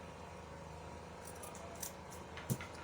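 Scissors notching the seam allowance of a sewn fabric school bag handle, a few small, quiet snips close up, the last one a little crisper, over a steady low room hum.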